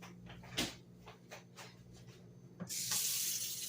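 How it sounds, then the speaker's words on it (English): Tap water runs into a container being rinsed at a kitchen sink, a few light knocks and clatters first, then a steady close rush of water filling the last second. "Let me rinse this out real good."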